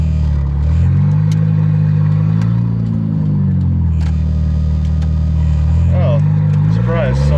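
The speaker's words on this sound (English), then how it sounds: "I'm driving the Volvo around." A big-turbo Volvo car drives and accelerates, its engine note rising and falling through gear changes in a steady mid-range drone, with a voice talking over it.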